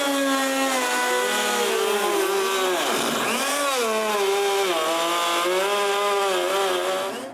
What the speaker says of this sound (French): avec le toupie et une mèche droite, j'enlève du bois pour le mécanisme